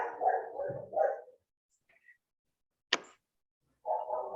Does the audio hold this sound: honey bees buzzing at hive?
no